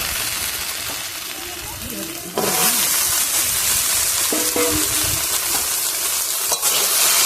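Gourd stems go into a frying pan where taro has been lightly fried. A moderate sizzle jumps sharply louder as they are added, then keeps up a dense, crackling fry with a few light clinks.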